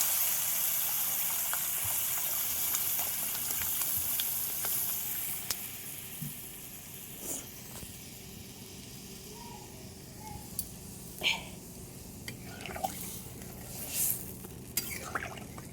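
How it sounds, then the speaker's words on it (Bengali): Water poured into a pan of fried potatoes sets off a loud hissing rush that slowly dies down. Scattered stirring clicks and scrapes follow, with no talk. "আলু ভাজা হয়ে গেছে, এখন আমি জল দিয়ে দিচ্ছি"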